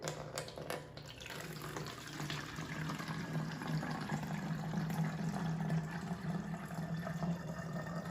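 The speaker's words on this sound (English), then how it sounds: "we've got a spray bottle. We're gonna put 2 cups of water in." A steady stream of water pours into a spray bottle, a continuous soft rushing with a faint rising tone, no talking.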